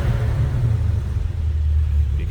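A 2016 Dodge Challenger SRT Hellcat V8 idles with a deep, steady, loping rumble and a slight rise in throttle, loud and close throughout.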